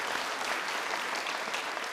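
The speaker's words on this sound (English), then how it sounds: "Give him a round of applause," Audience applause at a 2022 UCP leadership debate in Edmonton, a dense, steady clapping from a crowd lasting a couple of seconds at moderate distance.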